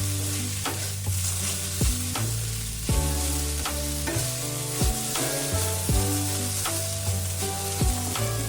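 Sliced okra for bhindi fry with turmeric powder sizzles steadily in a hot pan, and repeated scraping strokes of a spatula stir through it in an uneven rhythm, close and clear, with no talking.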